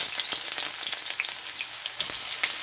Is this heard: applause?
no